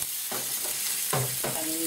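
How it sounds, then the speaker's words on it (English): Garlic and cleaned prawns frying in a hot pan, with a steady bright sizzle and a few short scraping stirs up close, no voices. "we put it straight in the hot pan, and then prawns"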